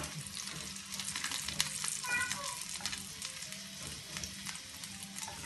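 Chicken and potato pieces sizzle and fry steadily in a pan for a quick snack, with soft scraping and clinks as they are stirred and turned, no voices over the constant crackle.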